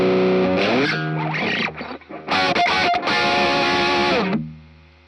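Electric guitar run through a Sonicake Matribox II multi-effects unit with vibrato applied, loud distorted strummed chords and a wavering sustained note, ringing out and fading at the end.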